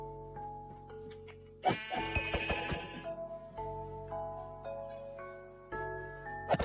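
Blocky sheep in the Minecraft-based game Hungry World bleat several times in close succession, mixed with chiming game sound effects and sharp clicks, with no one talking.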